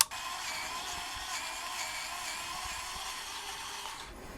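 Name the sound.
VEVOR electric precision screwdriver driving Torx bolt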